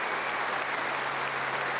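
Wimbledon crowd applauding at a 2001 fourth-round tennis match, a dense, steady wash of clapping that holds at an even level throughout the short burst, with no voices standing out.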